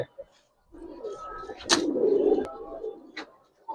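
Pigeons, including a male bird, coo in a soft low throaty warble close by, one sustained rolling call with short sharper bird sounds around it, and a brief voice underneath.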